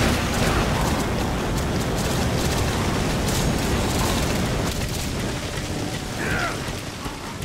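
A flamethrower firing in the zombie shooter game Dead Nation, a loud continuous roaring whoosh like a torrent of rain or rumbling fire, sustained throughout and fading slightly at the end.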